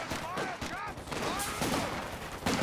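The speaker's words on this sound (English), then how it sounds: "Machine gun into the building here for Meliodas." Machine gun fire rattles in Company of Heroes 2 during a 2v2 match, with dense overlapping bursts and other gunfire throughout, under a commentator's voice.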